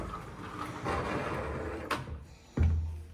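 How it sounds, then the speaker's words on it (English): A pocket door to a hotel bathroom at the Hard Rock Hotel & Casino in Tampa, Florida, slides with a soft rolling rumble, then lands with a single firm thud near the end, close by. "There's a pocket door here for the bathroom."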